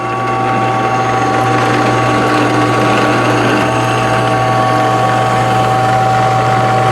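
Vevor 12-inch bench top drill press spins at its slowest setting of about 810 RPM, a loud, steady motor whine with a constant low hum and faint mechanical rattle, running alone without speech.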